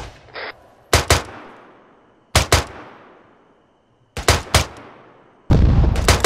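Rifle gunfire in the military simulation game ARMA, loud sharp shots in short bursts of two or three, separated by pauses with echoing tails, ending in a denser rattle of fire.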